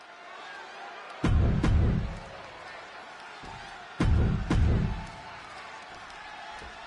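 Video game wrestling arena crowd in Chicago, WWE 2K26, swells in two loud bursts of cheering and roar over a steady background crowd murmur.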